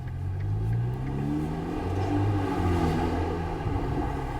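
A modified Ferrari Portofino's engine pulls hard under acceleration on the road, a steady deep rumble rising and falling in pitch as it revs, close and loud with no speech.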